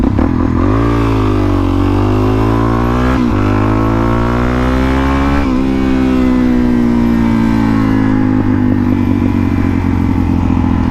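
A dirt bike engine revving up close, loud throttle blips rising and falling in pitch over a steady rumbling idle, repeated several times with no talking.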